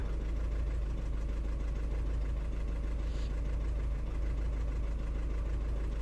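Audi A3 1.6 TDI diesel engine misfiring at idle, with injector number 4 faulty, running rough and shaking like a tractor; a steady, close, loud low rumble with an uneven knocking beat throughout.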